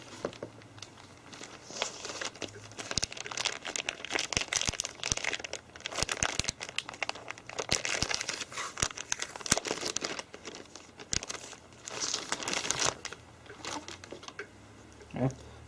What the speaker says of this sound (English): We can unwrap our new LCD.